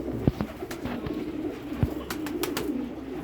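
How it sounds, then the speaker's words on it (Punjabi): Low, throaty coos from a Rampuri pigeon repeat a few times up close, with light background noise. "ਇਹ ਰਾਮਪੁਰੀਆਂ ਚ ਕਬੂਤਰ ਆ"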